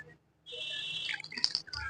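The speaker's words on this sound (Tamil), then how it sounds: "கொஞ்சமா தண்ணி ஆட் பண்ணிக்கலாம்" Water poured into a mixer jar over orange juice for homemade juice, a running splashing pour that starts abruptly and continues steadily with small gurgling bursts, close and fairly loud.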